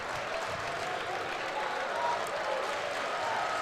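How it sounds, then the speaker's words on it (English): Basketball fans applaud a strong Temple Owls performance late in a game at the Liacouras Center, a steady wash of clapping from a large arena crowd with murmuring voices underneath throughout. "Some claps going around. Round of applause here for the Owls from a great performance."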